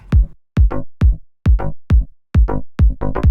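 A deep synth bass pulses in short, punchy bursts, side-chained to a thumping kick drum that clamps each one, giving a pumping, rhythmic feel with no voices.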